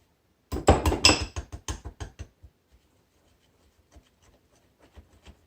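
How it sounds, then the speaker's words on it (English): A small whisk clatters quickly against a bowl while mixing a chocolate mixture for ice cream sandwiches, a burst of loud rapid taps that fades into sparse faint clicks. "I usually use a little whisk, all right, to incorporate all the yummy chocolate"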